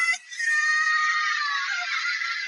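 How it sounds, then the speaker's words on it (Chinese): A girl screams in a long, high, sustained wail, close and loud, after a brief sharp intake at the start. "她哭喊着大叫"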